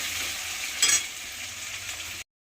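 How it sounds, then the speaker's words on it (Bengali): Onions fry in a pan with whole garam masala, a steady close sizzle that holds evenly for about two seconds, with a brief louder stirring scrape, then cuts to silence. "লাল করে পেঁয়াজগুলো ভেজে নেব"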